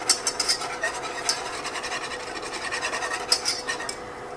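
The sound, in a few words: whisking a citrus glaze smooth in a pan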